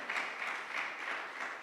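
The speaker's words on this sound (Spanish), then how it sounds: "Le damos un aplauso al Señor." Church congregation applauding the Lord during a sermon, a steady wash of many hands clapping together, sustained and even for the whole stretch with no voices over it.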